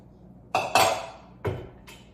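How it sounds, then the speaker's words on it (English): Dry ingredients for chocolate chip cookie dough are tipped into a mixing bowl, with four sharp, close clinks of a container knocking the bowl: two in quick succession, then two more spaced apart, over a quiet kitchen with no talking. "I'm gonna dump in the dry ingredients."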